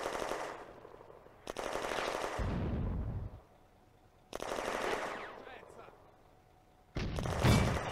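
Video game machine-gun fire on a World War II Eastern Front battlefield in June 1941, loud rapid bursts of several seconds each separated by short pauses, with heavy low thuds after the first burst.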